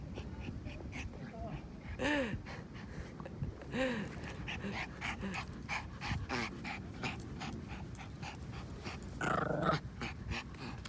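A dog growls in short low bursts at close range, mixed with panting and whimper-like noises, while a yoga instructor speaks steadily throughout an indoor stretch class.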